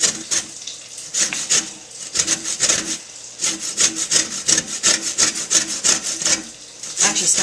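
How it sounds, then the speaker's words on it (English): Lemon peel being zested on a metal grater for a chicken francese dish, heard as steady rhythmic rasping strokes, close and fairly loud, repeating quickly without pause and with no talk over them. "It actually smells really good once you start zesting because all the oils are coming out"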